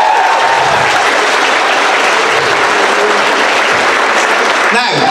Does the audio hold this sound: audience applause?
yes